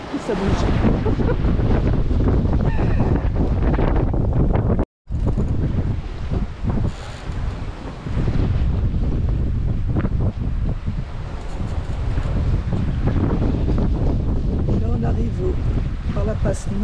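Wind roars and rushes over a sailboat heading along the north side of an island off Carloforte, with the sea swell in a steady loud wash, a brief dropout near the middle and voices talking beneath.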